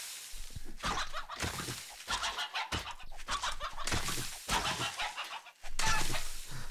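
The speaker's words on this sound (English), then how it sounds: "Well, we got a chicken." A chicken in the survival game 7 Days to Die clucks and squawks repeatedly in short irregular bursts, fairly close and loud, with no talking over it.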